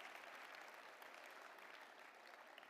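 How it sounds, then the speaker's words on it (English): Audience at a university student-athlete awards ceremony applauding, a steady wash of many hands clapping, fairly distant and soft, continuous for the whole stretch. "That was your cue to applause as well."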